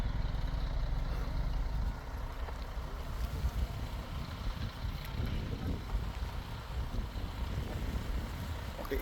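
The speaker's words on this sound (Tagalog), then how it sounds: "Kita niyo naman yung hangin dito, grabe." Wind blows hard across the microphone, a constant low rumble and buffeting roar outdoors with no voices.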